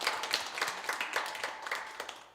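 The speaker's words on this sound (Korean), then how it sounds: "다시 한번 크게 박수로 보내드리겠습니다" Applause from a church congregation during a Sunday worship service, a dense wash of many hands clapping with irregular louder peaks, sustained and fairly close throughout.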